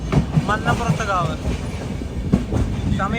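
An express train in sleeper class runs toward Nileshwaram station, heard from inside the carriage: loud, steady rumbling and rhythmic clickety-clack of the wheels on the rails, with a few brief high chirps over the din.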